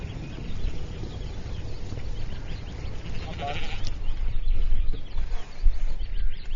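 Sheep bleat a few times over a rumbling outdoor background on a solar park pasture, the calls moderately close and rising above steady low noise.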